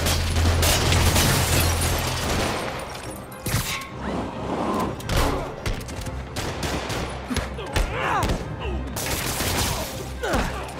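Criminals open fire in the Spider-Man Remastered video game, with rapid bursts of gunfire and impacts crackling loudly over a dense, busy game soundtrack for several seconds.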